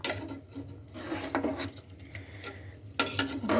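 Chicken coated in ginger, cumin, chili and turmeric paste is stirred in a pan with no water added, giving repeated scraping strokes and soft clatter over a low sizzle, close and uneven.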